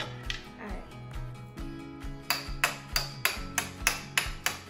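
A plastic toy hammer taps plastic ice blocks in a Don't Break the Ice tabletop game, with a run of sharp, evenly spaced clicks that get louder and quicker toward the end over a soft musical background.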